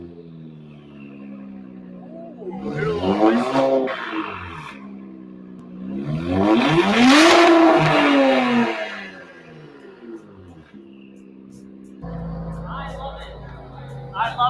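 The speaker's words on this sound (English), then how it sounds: "X pipe exhaust that he went with on his Nissan Z" Nissan Z fitted with an X-pipe exhaust and downpipes, revving in two loud rising-and-falling bursts, the second longer and louder, while people talk and react over it.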